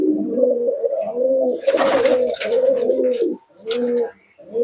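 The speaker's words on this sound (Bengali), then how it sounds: "এ গ্রেড কোয়ালিটির কবুতর আছে" Pigeons at a pigeon market, several birds cooing close by in overlapping repeated calls, with bursts of wing flutter and rustling between the coos.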